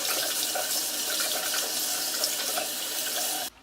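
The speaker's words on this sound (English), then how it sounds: "I turn on the water and I rinse the bristles out." Water running steadily from a bathroom tap while makeup brush bristles are rinsed under it, a continuous close splashing rush that stops abruptly at the end.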